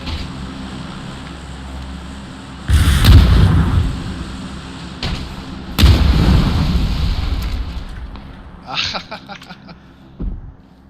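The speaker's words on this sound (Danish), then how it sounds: "Jeg fik mærke til, hvor granater kom fra." Two heavy booming grenade blasts go off a few seconds apart in PUBG, each followed by a rumbling tail, then quieter pops and clicks in the game soundscape.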